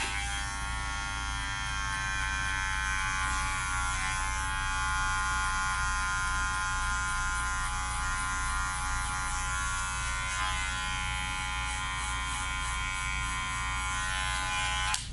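Electric hair clippers with the blade set open buzz steadily and continuously at close range for a haircut, a bright even drone with slight wavering as they move.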